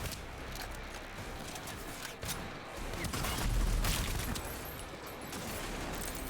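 Rapid bursts of video-game gunfire from Rage 2, an open-world first-person shooter, crackle steadily over a dense, noisy background of mechanical rumble and distant explosions, with no voices.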